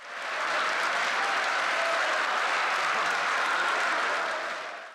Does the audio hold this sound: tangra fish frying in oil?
no